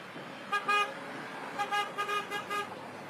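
Shimano neutral service car passing through a Rwandan road bike race, heard as a series of short bright horn toots in quick bursts over a low roadside hum.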